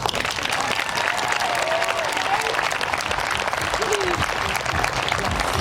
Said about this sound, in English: Y denles un big round of applause.